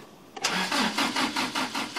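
A Toyota Hilux running on wood gas cranks repeatedly but fails to start: a rapid, even series of loud mechanical pulses, close and uninterrupted, with no engine catching.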